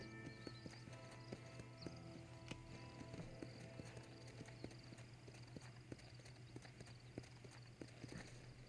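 Horse hooves in the video game Red Dead Redemption on Nintendo Switch clip-clop at a steady walking rhythm, regular sharp knocks over a low constant hum, without any talking.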